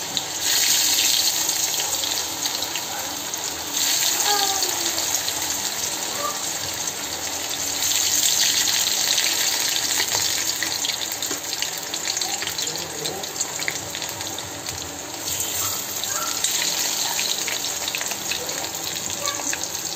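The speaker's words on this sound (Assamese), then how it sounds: "এইখিনিও মই তেলত ফ্ৰাই কৰিম" Vegetables such as okra, pointed gourd and potato sizzle in hot mustard oil for a Bengali veg thali, a steady close hiss and crackle under occasional talk.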